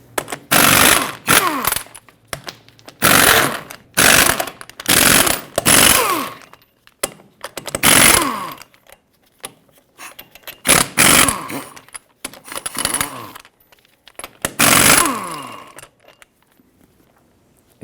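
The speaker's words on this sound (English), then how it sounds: "Now remove all 8 of your 22mm lug nuts" A power tool zips loose the 22mm lug nuts on the rear wheel of a 2007-2014 Chevrolet Silverado 2500 HD, giving about eight loud, close, separate rattling bursts with short pauses between them and no talking.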